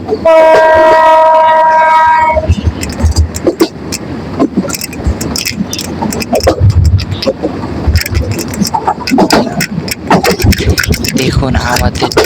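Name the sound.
moving passenger train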